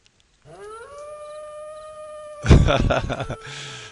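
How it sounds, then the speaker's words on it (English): A wolf howls as ambient sound in the Second Life virtual world: one long, rising, sustained howl, clear and fairly loud, then a burst of louder broadband noise and a short lower tone at the end. "Anybody else hear the howling wolf?"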